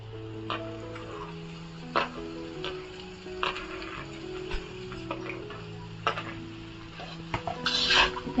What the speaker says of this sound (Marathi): छान अशी परतून घ्यायची